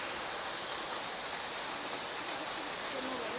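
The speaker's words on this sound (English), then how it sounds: "Probably because of the water coming down." Water falling steadily at the Japanese Tea Gardens in San Antonio, a constant broadband rush filling the whole stretch without pause, close and even, with no talk over it.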